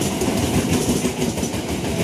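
A CC201 diesel locomotive hauling the Airlangga passenger train passes Kramat station, giving a continuous close rumble with clattering wheels and no voices.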